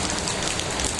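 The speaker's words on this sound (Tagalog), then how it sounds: "bigla namang bumagsak yung ulan" Heavy rain pours down outside a newly built house, a dense, loud, continuous hiss of drops on surfaces with no voices.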